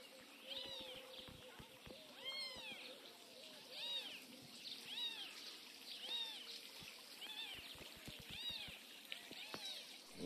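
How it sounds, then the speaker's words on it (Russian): A mother cat with her kittens meows in rural Bulgaria, repeated faint high mews scattered throughout over a quiet background hiss, some overlapping, with soft knocks and rustles. "пока кошка разбирается с котятами"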